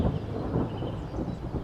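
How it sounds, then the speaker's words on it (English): Thunder rumbles in Train Sim World 6 on an East Coast Main Line route beside a Class 801 train. It is a low, rolling, continuous rumble, moderately loud and distant-sounding, with no talking. "Why can I hear thunder?"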